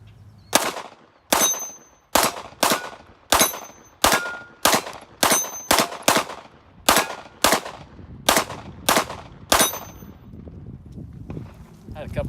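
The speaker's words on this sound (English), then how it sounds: "So let's go ahead and shoot it some more." Sharp, sharply decaying shots from an S&W M&P 2.0 Compact 9mm pistol on an outdoor range ring out roughly a dozen times at an even, fairly quick pace, each crack leaving a brief echo.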